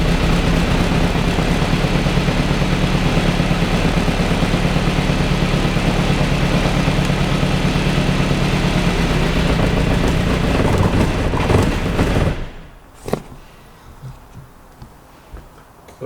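An Austin Mk1 engine with an Arden 8-port head running loud and rough at a steady tick-over after start-up, then cutting out abruptly, leaving a few faint clicks and knocks.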